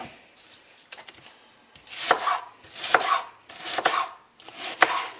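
A knife chops a sweet red onion on a cutting board in four to five rhythmic bursts of quick, crisp strokes, close and clear with short pauses between.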